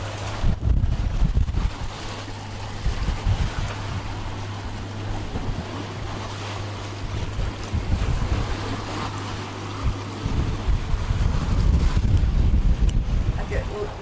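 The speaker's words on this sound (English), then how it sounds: "And the wind is still up and down, gusting." Gusty wind buffets a sailboat at sea, a loud, rough rushing that swells and eases over time, mixed with low rumbling from waves and the moving hull.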